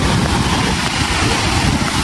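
Big, strong ocean waves at a surfing beach in the Davao region give a loud, continuous roar with no break, heavy rumbling under wind buffeting the microphone.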